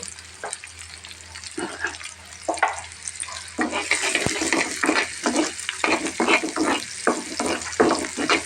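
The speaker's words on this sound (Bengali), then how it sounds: "কিছু শুকনো মরি দিয়েছি কিছু রসুন পেঁচে দিয়েছি পেঁয়াজ দিয়েছি এখন আমি এটাকে ভালো করে ভেজে নেব" Dried chilies, garlic and onion fry in hot oil in a pan. A bright, close sizzle grows louder partway through, and repeated spoon scrapes and stirring knocks run over it without any talk. The onions are a base for a drumstick-leaf stir-fry.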